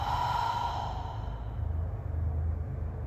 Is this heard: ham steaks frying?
no